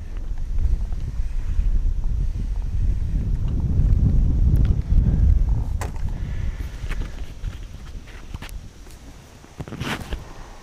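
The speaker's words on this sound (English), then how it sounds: "Not sure how that wind is sounding today." Outdoor wind buffeting the microphone while fishing, a low rumbling roar with gusty swells that peaks midway, mixed with faint knocks and clicks, steady and close with no talking.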